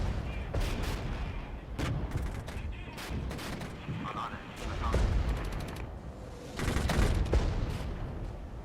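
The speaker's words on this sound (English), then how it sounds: "Fire off remaining rounds, and hopefully this is going to be enough to punch through the enemy lines." Sustained volleys of gunfire and rapid bursts from rounds fired in the Cold War Gone Hot 1989 modern-war RTS game, loud and dense with sharp repeated cracks, swelling into heavier barrages near the middle and end.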